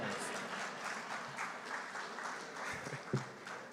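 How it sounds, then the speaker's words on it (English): Faint, steady applause from an audience at the opening ceremony of a Caribbean public workers' conference, a soft continuous patter with a few isolated louder claps near the end. "You can give me a round of applause."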